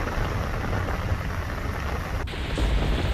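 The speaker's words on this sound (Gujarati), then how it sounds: "અંજારના ગામોમાં ધોધમાર વરસાદ વરસી રહ્યો છે" Heavy rain pours steadily over villages near Anjar in Kutch, a dense, loud, unbroken hiss of falling water with a low rumble beneath and no voices.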